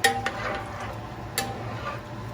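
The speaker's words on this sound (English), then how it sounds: "We're gonna stir it up one more time." Cajun jambalaya is stirred in a pot: a couple of soft utensil scrapes and knocks over a low, steady bubbling hum, close and quiet, with no talking.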